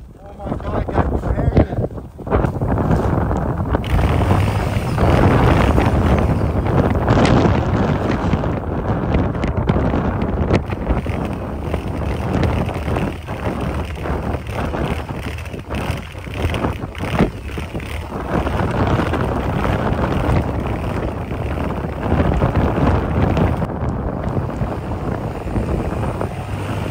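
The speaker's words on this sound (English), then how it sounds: "We're literally trapped in the middle of a snowstorm." Strong wind roaring during a snowstorm while out on an ATV, loud continuous buffeting against the microphone with gusty surges, while people shout and talk over it.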